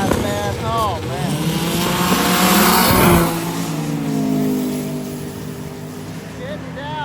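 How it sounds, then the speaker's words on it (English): Drag racing cars, including a 6-cylinder Buick GNX, blast past in a loud sustained engine roar that peaks and then fades, while an announcer talks over it. "got the 6-cylinder Buick GNX in A class"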